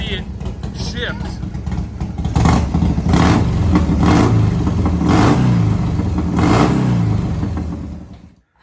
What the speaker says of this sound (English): there's so much torque in the engine when you rev it that you can see it shift